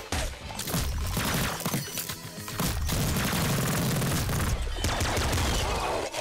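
Triple machine gun firing in Nuclear Throne, a loud, sustained barrage of overlapping rapid shots and blasts that runs almost without a break, briefly thinning once before surging again, no voices present.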